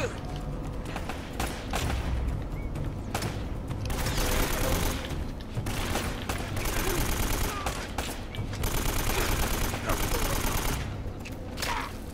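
Rapid bursts of AK rifle fire from the video game Uncharted: Drake's Fortune, loud and repeated in clusters with thuds and booms among them, dense combat noise running throughout without pauses.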